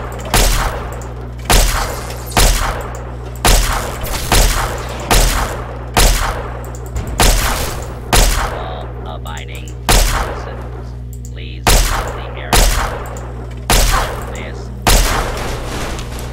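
Gunfire from a fight with a Protectron robot in Fallout 3: about a dozen loud, evenly spaced shots with booming low thuds ring out roughly once a second over a constant low game hum, with one short pause midway.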